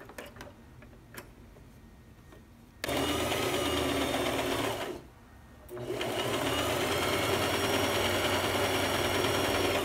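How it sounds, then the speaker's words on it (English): A sewing machine runs a straight stitch on silky knit fabric with a fine thread. A faint ticking idle comes first, then a loud, steady whir that continues alone. It pauses briefly and then resumes. "let's just sew a straight stitch"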